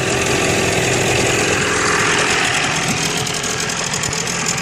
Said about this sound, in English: Now I've had this engine run for 10 minutes or so, so it's warmed up